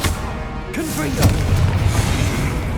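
Confringo fire spell blasting in Hogwarts Legacy gameplay: a single booming explosive burst with a crackling, whooshing tail, heard up close.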